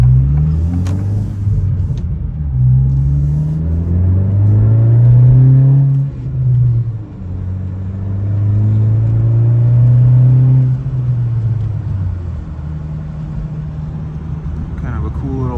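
A Honda Civic Type R fitted with a Remark exhaust drives at close range, its deep exhaust drone rising and falling as the car accelerates and shifts, with the engine note sweeping up through the gears.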